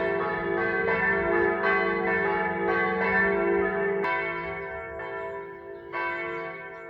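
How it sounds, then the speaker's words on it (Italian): Church bells in Ipplis, Premariacco, Italy, ring steadily and resonantly, strikes overlapping in a continuous peal with a rich, lingering hum, no voices. "Ed ecco il suono delle campane"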